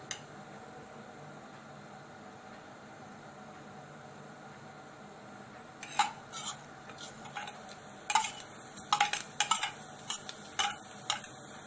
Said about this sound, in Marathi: मोहरी चांगली तडतडल्यावरती